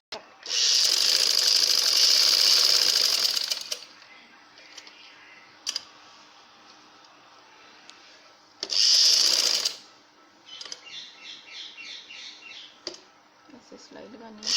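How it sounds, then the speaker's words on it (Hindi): A sewing machine stitching a dhoti shalwar runs in loud bursts, one long run of several seconds, then a brief blip, a second burst and a short stutter, with quiet pauses between. "ओपन करने के बाद यहाँ से सिलाई स्टार्ट करेंगे"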